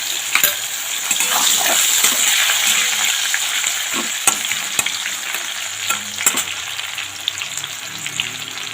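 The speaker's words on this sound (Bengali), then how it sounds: "পেঁয়াজটা একটু বড় বড় করে কেটে নিচ্ছে এটা একটুখানি ভেজে নেব" Chunky cut onion with a little salt frying in oil in a pan, a steady bright sizzle running throughout with occasional louder spits and stirring clicks, close and with no talking.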